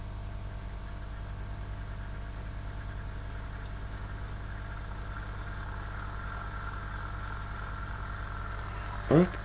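A Kubik coil drives a spinning magnet with a steady electrical hum and layered buzzing overtones that hold constant throughout. A short sharp click or knock comes right at the end.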